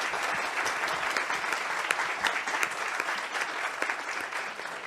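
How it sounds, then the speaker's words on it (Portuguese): Steady, dense applause from an audience at a round-table debate marking ten years since the Mariana disaster, filling the whole stretch evenly without pause. "Uma salva de palmas a todos eles."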